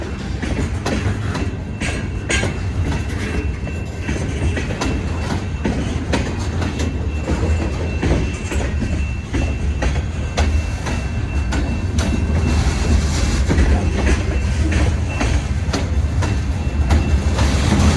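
CSX freight train cars roll steadily past at close range, a continuous rumble with rhythmic clickety-clack of wheels over rail joints and occasional faint squeals, holding an even loudness throughout.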